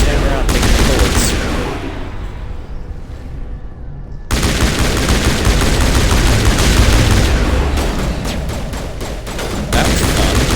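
Dense, rapid gunfire from a video game, loud and close, with overlapping bursts of automatic fire that drop out briefly around the middle, then resume as heavy sustained shooting to the end.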